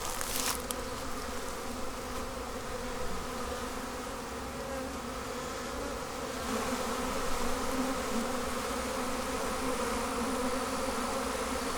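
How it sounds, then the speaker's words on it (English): Honey bees buzz steadily in a Demaree bee yard during hive work, a dense continuous hum close by with overlapping wingbeat tones. "A lot of bees still on here."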